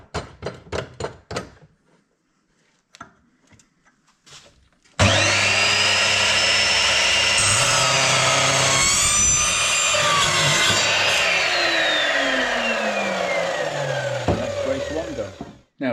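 Power tool cutting through light aluminium tubing on an outrigger upgrade, a loud, steady whining cut lasting about ten seconds after a few quiet knocks and handling sounds.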